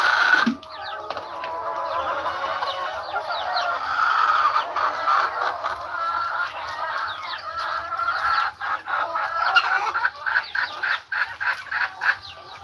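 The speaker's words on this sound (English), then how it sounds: "I'm not really sure why the chickens are so loud this morning, Ranger." Farm chickens cluck loudly in the morning in a continuous busy chorus, with overlapping calls and sharp bursts from several birds nearby, no talking.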